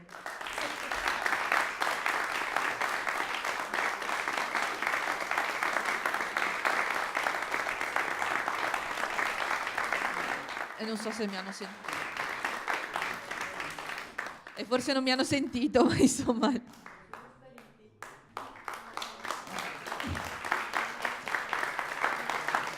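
Concert audience applauding the musicians at a classical matinée, a steady broad wash of clapping that carries through most of the stretch, broken midway by a spoken voice, then resuming under further talk.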